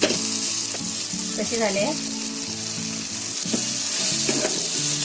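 Oat dosa chila sizzling steadily in a lightly oiled pan while being flipped, a continuous close crackle and hiss with someone speaking briefly over it and faint music underneath.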